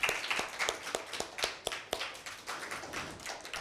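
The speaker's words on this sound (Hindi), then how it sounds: "आपकी भरपूर तालियों में" Scattered clapping from an audience at a Hindi-Urdu poetry recital marking Father's Day, fairly quiet, with distinct separate claps in an uneven rhythm rather than a full ovation.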